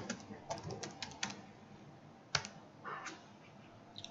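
Keys tapped on a computer keyboard while a shipping label is typed, in short bursts and separate clicks with pauses, one sharper keystroke standing out, fairly quiet.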